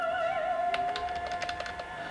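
Quick bursts of keystrokes on a computer keyboard, a short run of light clicks over a steady background tone.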